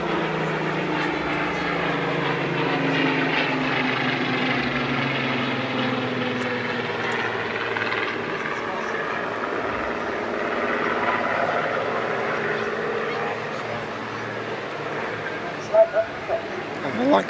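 Avro Lancaster bomber at an airshow, a steady drone of its piston engines and propellers sustained throughout, with a crowd murmuring and people talking underneath.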